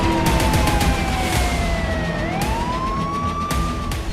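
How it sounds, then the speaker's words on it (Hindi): Alert sirens wail over Ashkelon, Israel, during a rocket attack, a steady tone sliding down and then swinging back up, heard continuously above a rough background wash with no talk. "पूरे इलाके में अलर्ट सायरन गूंजने लगे"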